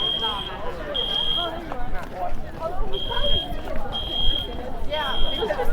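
A school fire alarm sounds in repeated loud, piercing high-pitched beeping bursts, separated by short gaps, over busy hallway chatter and footsteps.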